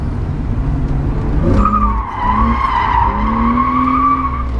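A BMW drift car revs hard and pulls away, its engine note climbing as the tires squeal and skid loudly and close by, with no voices.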